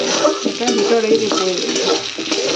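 Mango pieces fry in oil with dried chillies in a home kitchen, a loud, steady sizzle broken by the scrape and clink of a stirring spoon against the pan.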